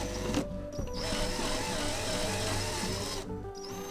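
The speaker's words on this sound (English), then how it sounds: "Then all you have to do is just undo these bolts" Power-tool whirring while undoing bolts on a Lotus Elan M100 bonnet: a steady, close, continuous mechanical whir with brief dips, holding through the whole stretch.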